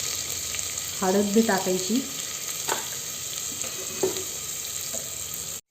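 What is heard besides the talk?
garlic and cumin sautéing in oil in a pan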